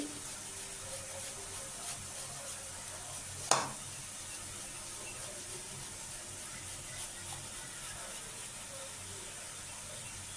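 Spice masala with ginger and garlic frying in a pan, giving a soft, steady sizzle throughout, broken once by a single sharp click.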